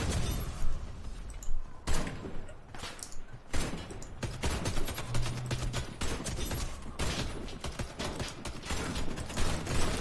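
Gunfire in the video game Warface, rapid bursts of automatic shots and mechanical weapon clatter playing in dense, repeated volleys at fairly loud level without speech.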